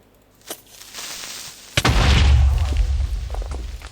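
A Minecraft creeper explosion: a sharp crack followed by a loud, rumbling blast that roars and slowly fades, with a small pop just before it.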